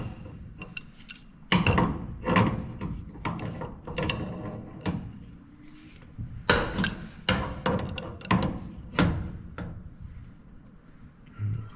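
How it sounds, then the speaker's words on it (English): Pliers tightening a gas fitting while a bespoke gas range is converted to liquid propane: close, irregular metallic clicks, scrapes and ratcheting taps in uneven bursts, with no talking. "I'm going to use these pliers at first just to get it on there as much as I can."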